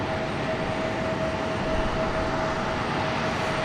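A Republic Airways airliner at Raleigh-Durham International Airport gives off a steady, loud jet roar with a faint whine running through it, holding constant without a break.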